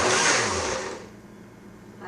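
A food processor pulsing through stuffing ingredients, a loud whirring motor burst that cuts off after about a second and leaves a quieter hum.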